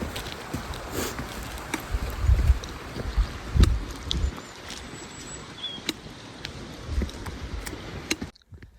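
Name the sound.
mountain stream water flowing near Old Manali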